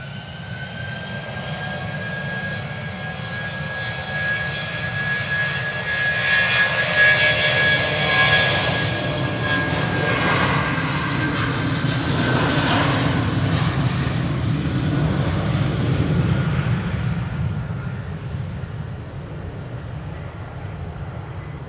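Ryanair airliner engines roaring past at Manchester Airport on a windy day, a sustained loud jet rumble with a steady whine that swells in the middle and fades toward the end, under strong wind.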